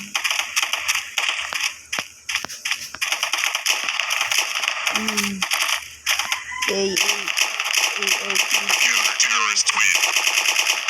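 Special Forces Group 2, a counter-terrorist shooter video game, fills with repeated loud bursts of automatic gunfire and crunching impacts. Brief voices or game sounds come through between the volleys.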